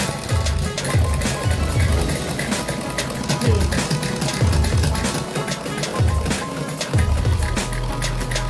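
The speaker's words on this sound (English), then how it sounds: "It's time for sewing all our scrunchie loops." Sewing machine stitching loops of satin fabric for scrunchies, running in short repeated bursts with a steady mechanical whir over a busy background.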